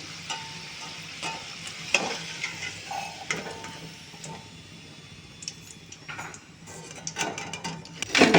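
Kajjikaya pastries made by hand fry in hot oil, turned to cook on both sides. A close sizzle runs under irregular scrapes and clinks of a utensil against the pan, louder bursts near the end.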